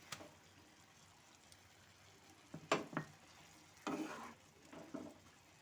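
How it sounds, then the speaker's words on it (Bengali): Fried paneer pieces going into a yogurt gravy in a pan, heard as a few quiet clinks and soft plops spread over a low, hushed background. "এর মধ্যে দিয়ে দিচ্ছি আমি ভেজে রাখা পনিরের পিসগুলো।"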